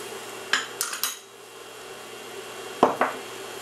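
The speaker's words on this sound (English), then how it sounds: "I'm going to put a lid on it for a minute" A lid is set on a pan of spinach and tomato paste over medium-high heat, heard as a few sharp metallic clatters and clinks in two short bursts with quiet between.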